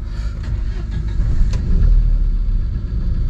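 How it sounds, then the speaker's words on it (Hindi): A diesel car engine restarted after sitting in −20°C freezing cold, running as a steady low rumble at close range with a slight swell in loudness midway and no voices. "तो बंद की थी गाड़ी अभी, अब दोबारा स्टार्ट करके देखते हैं, एक बार सेल्फ ले लें"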